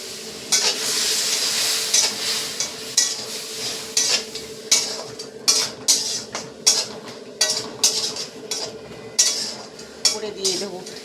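Spice paste frying and stirred in a pan with a little water for a Bengali mixed-vegetable dish, bursts of sizzling hiss broken by steady, rhythmic scrapes of a spoon against the pan, close and fairly loud, no talking.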